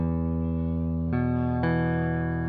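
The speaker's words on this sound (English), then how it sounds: "if Chris, if you would kindly just play something in the bass register for a moment" A Teisco Spectrum 5 stereo guitar plays a sustained low bass-register chord, its sound rich in harmonics. Two fresh strums fall about midway and ring on steadily, loud and close with no voices.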